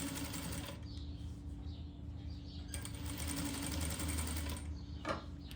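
A sewing machine stitching pom-pom trim onto knit fabric runs in a steady, fast mechanical whir, with a brief change in pace partway through and a light tap near the end.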